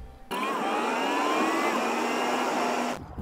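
A 3D-printed RC model aircraft at a flying field gives a steady, loud, high-pitched whine of its motor, rising slightly in pitch and holding for about three seconds before cutting off abruptly.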